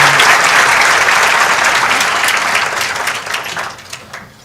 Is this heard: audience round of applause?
yes